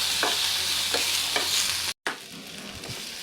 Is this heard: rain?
no